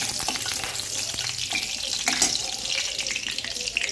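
Fenugreek seeds tempering in hot oil in a kadai for a fish curry, with a dense, bright sizzle and crackle running throughout, steady and close.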